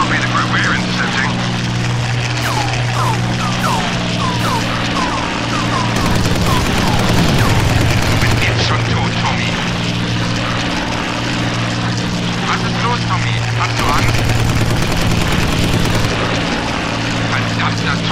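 Propeller warplanes from the Battle of Britain era in the Combat Wings video game drone steadily throughout, a loud sustained engine hum with bursts of gunfire-like crackle, while a voice talks over it.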